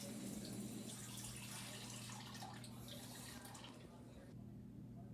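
Lukewarm water runs from a kitchen tap in a steady, rushing stream at moderate volume and cuts off shortly before the end.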